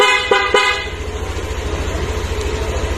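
A car horn honks in two short blasts, then a steady low engine hum with a rhythmic pulsing continues, close and fairly loud.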